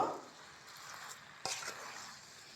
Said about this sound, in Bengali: এবার লবণ দিয়ে খুব ভালো করে মিশিয়ে নেব